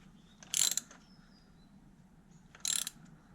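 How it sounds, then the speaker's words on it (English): A ratchet tightens a 13mm steel bolt into an aluminium thread on a car air-conditioning idler pulley, two short quick clicking bursts close up and separated by a quiet pause. "Don't want to over tighten that because it's a steel bolt going into an aluminium thread."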